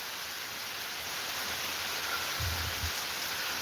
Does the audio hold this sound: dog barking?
no